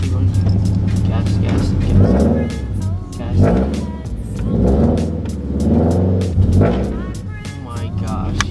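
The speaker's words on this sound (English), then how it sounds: "you just started revving at 10 in the morning" A car engine revs repeatedly in rising and falling surges, loud and close, with people talking over it.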